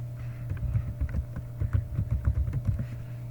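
Keystrokes tapped out on a computer keyboard while entering a database command, a quick irregular run of soft clicks over a steady low hum, no talking.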